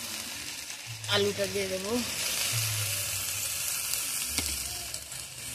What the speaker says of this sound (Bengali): এবারে আমি কষিতে দিয়ে দেবো।